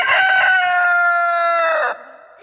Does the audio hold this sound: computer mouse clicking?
no